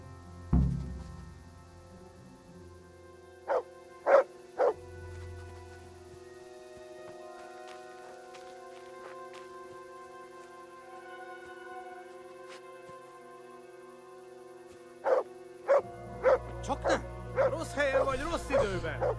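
Tinker the dog in Kingdom Come Deliverance gives a few sharp barks in the dark, first as a short spaced group and later as a quicker run of yaps over a low game backdrop, with someone talking at times.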